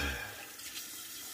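Tap water running into a sink for a rinse after a wet shave, a steady close splash and hiss that stays level through the short moment with no talk.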